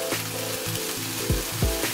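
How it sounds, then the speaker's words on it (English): Bacon and spinach sizzle in a pan as a constant low crackle, with a couple of short scraping stir strokes and some low clunks around it. "Next up, we're going to throw our bacon into the pan. And just make sure you give that a good stir."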